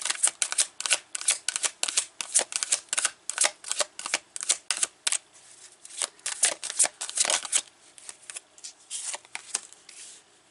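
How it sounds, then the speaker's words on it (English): Tarot cards shuffled and pulled from a deck, giving a dense run of crisp, close papery flicks and riffles in quick bursts, pausing briefly near the end before a few more snaps. "First, I'm going to pull a few cards."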